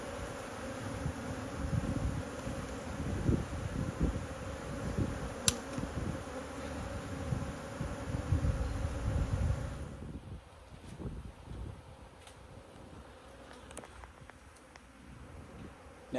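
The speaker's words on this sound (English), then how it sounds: "They'd recently swarmed, so there's a lot of bees" Honey bees swarm around an opened hive being worked with newspaper-combined frames, a dense, continuous close buzz with wind rumbling under it, easing slightly near the end.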